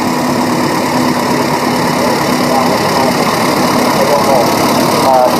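GD tractor with a six-cylinder diesel engine rolling in a vintage tractor parade at Rollag, a steady low rumbling drone, with someone talking over it.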